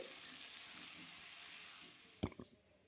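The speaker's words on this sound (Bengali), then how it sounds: "আলুগুলো একটু লাল করে ভেজে নেব" New potato chunks with turmeric frying in a wok for a mutton curry give a steady soft sizzle and hiss, broken near the end by a couple of brief clatters from stirring.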